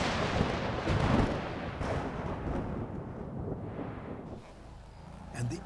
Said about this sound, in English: Miles away, a storm has broken.